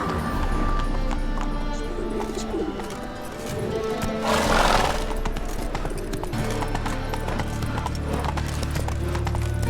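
Roach, the horse from The Witcher 3, galloping hard with a fast, loud clip-clop of hooves over music and ambient game sound, with a swell of rushing noise partway through.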